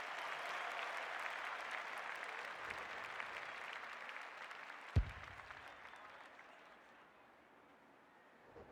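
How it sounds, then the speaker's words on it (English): After a goal at a VFL Australian rules football match between Footscray and South Melbourne, the crowd roar sounds distant and washy. It holds steady, then gradually fades, with one sharp thump partway through. "The crowd noise tells you all you need to know."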